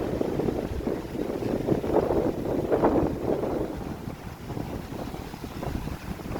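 Strong wind on a seashore in Finike, Turkey, buffeting the microphone with a rough, rumbling roar, gusting unevenly throughout, with no voices.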